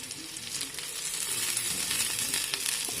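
Onions frying in a pan for broccoli Manchurian, a steady bright sizzle that holds evenly throughout with faint stirring scrapes, close and alone without talk.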